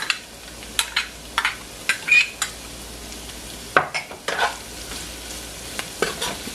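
Green seasoning stirred into a pot for callaloo spinach rice with salted pigtails, with repeated scraping and clinking of a spoon against metal over a soft simmering sizzle, close and without talk.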